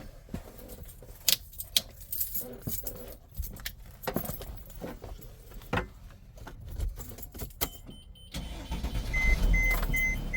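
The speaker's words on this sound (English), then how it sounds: "If you go over and start the engine, we'll see that it comes on." Engine of a Leisure Travel Vans Unity motorhome cranking and starting, with jangling keys and clicks early on, then the engine settling into a steady low rumble that grows louder toward the end.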